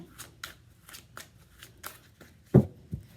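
Tarot cards being shuffled by hand: a run of quick, papery riffling bursts, fairly close, ending in a couple of louder slaps as the deck is squared, with no talking.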